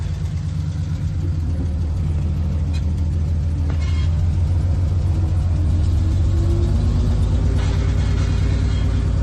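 A 1945 M-5H-6 truck with a flatbed drives in four-wheel drive, its engine rumbling steadily and loudly up close throughout.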